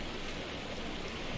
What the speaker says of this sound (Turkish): Evet hava bayağı bozdu. Yağmurlu.